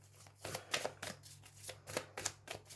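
Oracle cards are shuffled by hand in quick rhythmic bursts of soft riffling and slapping, about a dozen crisp close strokes over a quiet background hum.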